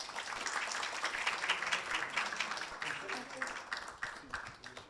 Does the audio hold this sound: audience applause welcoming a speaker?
yes